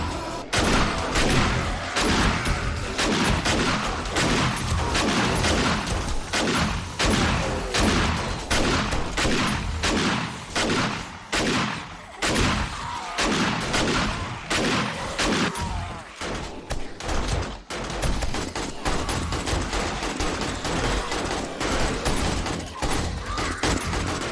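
Automated turrets blasting away in 7 Days to Die, a relentless rapid stream of loud, close shots hammering on for over twenty seconds with only brief gaps.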